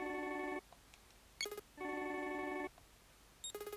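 A telephone rings in the detective game Kigasawa Ryōsuke Jikentan Vol.10, Eigōkai Incident, on Nintendo Switch. It gives clear, bright electronic ring bursts with short gaps between them, heard alone and close.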